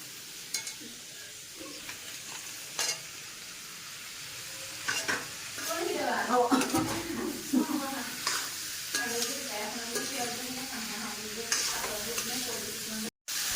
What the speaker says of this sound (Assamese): মাংসখিনি এতিয়া লৰাই দিছোঁ